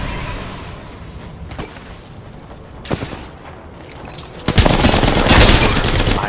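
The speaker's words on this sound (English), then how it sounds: "Opening fire on the enemy." Rapid gunfire rattles through a match of Apex Legends, with scattered sharp shots early on and then a loud, dense burst of automatic fire near the end, close and without talk.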